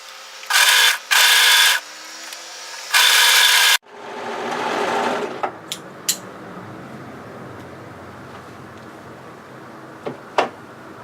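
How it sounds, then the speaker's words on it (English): An overlocker stitches a dress sleeve seam from the underarm point, whirring in three short, loud bursts near the start before giving way to quieter handling noises and a few faint clicks. "So start at the underarm point and overlock that together"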